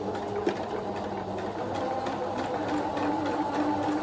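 A sewing machine top stitching fabric for a babydoll top, a close, steady mechanical whir with rapid needle strokes running continuously for a few seconds, no talking.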